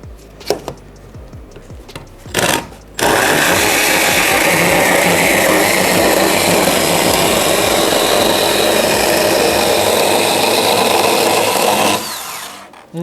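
A Milwaukee M12 FHS-0 cordless chainsaw cuts through a wooden board. A couple of brief handling knocks come first, then a loud, steady, high whining buzz of the chain biting wood for about nine seconds before it stops abruptly.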